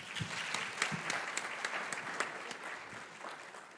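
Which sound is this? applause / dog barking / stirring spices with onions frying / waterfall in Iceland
applause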